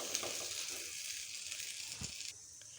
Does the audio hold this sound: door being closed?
no